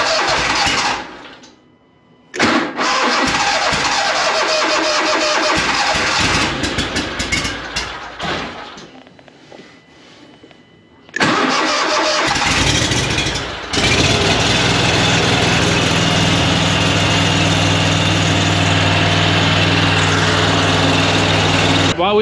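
Engine-powered equipment cold starting: several loud cranking bursts broken by short pauses and fading attempts, then the engine catches and settles into a steady, close idle with a strong low hum.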